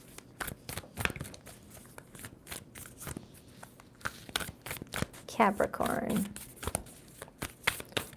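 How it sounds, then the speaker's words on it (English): A deck of tarot cards being shuffled by hand, crisp riffling bursts and soft papery slaps in quick uneven runs, close and clear beneath someone talking between shuffles. "2 more shuffles for Capricorn."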